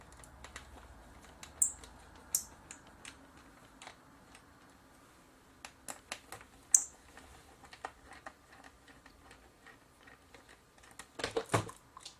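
Small screws are backed out of the top of a Toshiba Satellite L350 laptop's LCD screen cover, heard as quiet scattered clicks and ticks with a denser burst of rattling near the end, in a quiet room.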